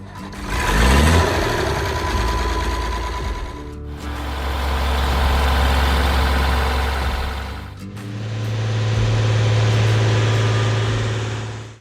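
An Oliver 1850 tractor engine runs loud and close, starting with a rising roar, then settling into a heavy steady drone across several sustained passes with brief breaks, no voices.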